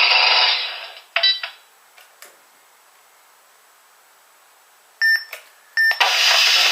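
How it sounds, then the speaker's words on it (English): A Dead Space 2 plasma cutter replica prop with a Blaster Core v4 sound board gives short electronic beeps, a few bright tones clustered near the end, between bursts of handling rustle and quiet gaps. "Pressing both buttons, the main trigger and the aux button, you hear a beep."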